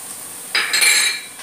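Carrots dropped into frying cabbage in a pan for noodles and stirred, a brief clatter of a metal spoon against the pan with a faint sizzle, close and fairly loud.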